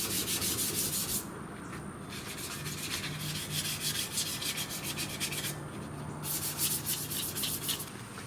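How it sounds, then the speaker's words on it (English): Steady back-and-forth rasping of sandpaper rubbing metal parts by hand, close and continuous, with rhythmic strokes. "do a little bit of hand sanding and finishing"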